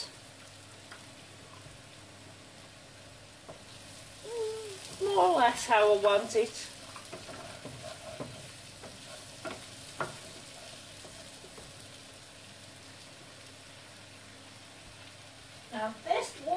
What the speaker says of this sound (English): And we'll just fry this off now.